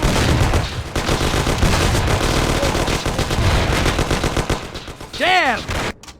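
Sustained gunfire in the 2002 game Mafia: The City of Lost Heaven. Rapid machine-gun bursts and overlapping shots run loud through a shootout, with shouted voices mixed in.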